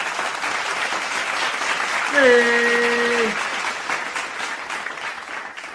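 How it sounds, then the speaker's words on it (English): Applause sound effect on a New York Yankees vs Tampa Bay Rays play-by-play livestream: steady, dense clapping throughout, with a brief voice calling out over it midway. "Another round of applause."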